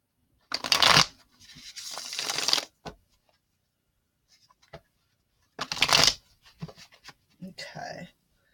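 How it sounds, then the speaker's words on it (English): Tarot clarifier cards from a Witch's Tarot deck being shuffled by hand, with two longer riffling bursts and a few short card taps and slides between them, close and fairly clear. "I'm going to go ahead and shuffle the clarifiers."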